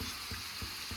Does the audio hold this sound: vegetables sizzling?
yes